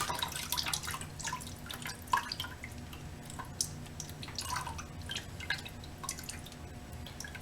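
Coolant drips from the radiator of a Ducati 1098 superbike during a coolant change, a quick irregular patter of small drops landing close by, faint and with no talk.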